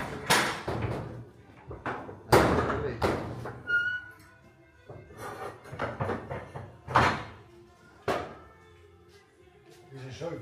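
A few heavy door thuds and knocks, one banging loudly, with people talking nearby in between, at a truck museum.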